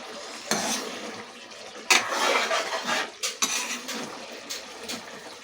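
A spoon scrapes and clinks through a thick okra and dried fish curry in a cooking pot, giving several irregular, fairly close stirring bursts with wet scraping in between.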